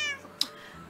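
Domestic cat giving a single short meow, fairly close and clear, in an otherwise quiet room.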